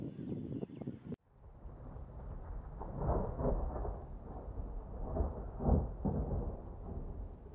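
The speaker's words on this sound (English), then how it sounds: "It looks like some giant storm is coming." Rolling thunder rumbles under heavy, overcast storm clouds, a low continuous roar that swells and fades in waves after an abrupt start, with rain and wind noise washing over the microphone throughout.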